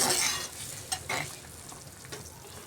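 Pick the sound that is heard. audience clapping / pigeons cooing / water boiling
water boiling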